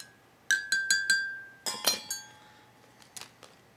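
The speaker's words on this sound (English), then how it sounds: "2 spoons of sugar. Stir it for ages." A spoon clinks against a cup while stirring in two spoonfuls of sugar, four quick bright taps followed by a busier cluster of rattling clinks and a few fainter taps, close and alone.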